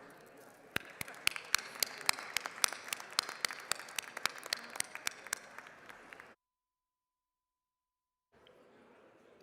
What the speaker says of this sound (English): Members, please join me in a round of applause as we welcome our distinguished delegation from Floresville